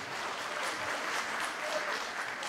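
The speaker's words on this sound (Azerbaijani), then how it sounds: "bir daha ürəkdən alqışlayaq bizim qalib qardaşımızı" An audience applauding a victorious war veteran at a celebration, sustained crowd clapping, dense and even, at moderate distance throughout.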